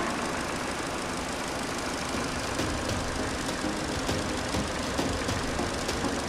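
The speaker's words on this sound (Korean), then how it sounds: "엔진 소리 일정합니다." A Genesis GV80 2.5T gasoline AWD SUV idles steadily with its engine bay open, a constant even hum with faint ticking, heard close up and alone.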